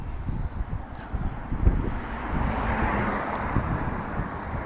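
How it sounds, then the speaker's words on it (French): Wind buffets a microphone outdoors, a steady loud rumbling roar with gusty swells and faint traffic-like noise in the distance. "J'espère qu'on m'entend bien avec le vent."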